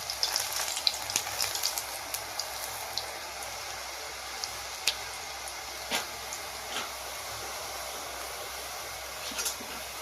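Gram flour jhuri bhaja strands fry in hot oil with a steady, close crackling sizzle, dotted with sharper pops and spatters, continuous throughout with no talking.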